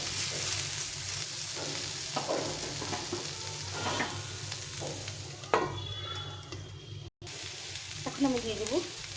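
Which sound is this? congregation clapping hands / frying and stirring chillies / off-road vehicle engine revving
frying and stirring chillies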